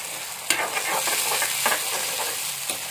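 Tomatoes fry in a pan for a spicy Malvani village dish, sizzling steadily up close while a spoon stirs them, with a few sharp scraping strokes against the pan.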